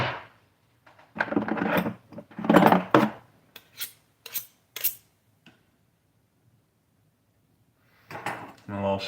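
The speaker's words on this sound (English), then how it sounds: "So I'm gonna get my cutting board out." A cutting board is pulled out and set down in a home kitchen, with several sharp wooden knocks and clatters, a few rubbing scrapes, and a quiet gap before a voice starts talking near the end.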